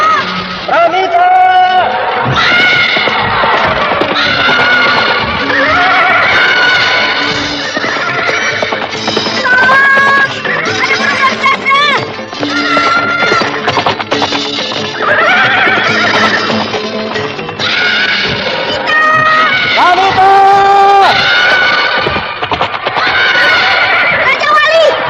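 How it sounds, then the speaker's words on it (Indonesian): A frightened horse neighs and whinnies repeatedly in loud, shrill bursts, close up and sustained throughout, over a dense bed of hoofbeats and commotion. "Itu lihat, kuda ketakutan."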